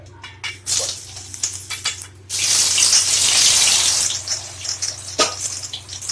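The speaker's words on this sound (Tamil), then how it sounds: "ஆயில் சூடாயிடுச்சு இப்போ வந்து அந்த வாழைக்காவை நல்லா டீப் ஃப்ரை பண்ணுறேன்" Raw banana slices go into hot oil for deep frying, giving a few clattering drops, then a sudden burst of loud, steady sizzling and bubbling that settles into a softer crackle, close by.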